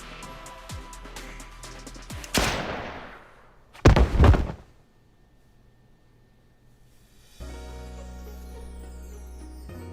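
Gunshots in the Blue Archive video game: a sharp shot followed by a louder cluster of two or three close blasts, set against quiet game music, with no talking.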